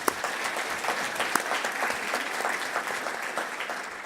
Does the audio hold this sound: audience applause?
yes